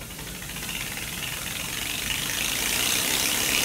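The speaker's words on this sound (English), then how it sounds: "Whenever we start blowing on the anemometer, take note of the light array that'll go around the top" Air is blown across the anemometer of a portable weather station, making a loud, steady, close rushing noise that builds slightly in strength, with nothing else heard.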